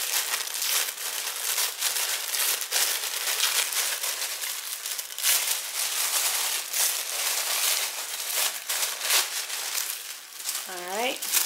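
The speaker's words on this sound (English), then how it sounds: "I'm just going to tear it, see if it'll tear on the fold" Paper being torn by hand along a fold for travel journal covers, a long close crackling rip with steady crinkling throughout, and a brief voice near the end.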